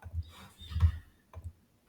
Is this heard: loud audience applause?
no